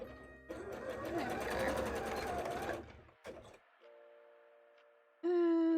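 A sewing machine stitches fabric for a Lara Croft costume bra in a fast close whirr that runs for about two seconds and then stops, followed by quieter handling noises and a brief tone.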